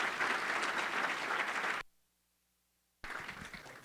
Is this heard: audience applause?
yes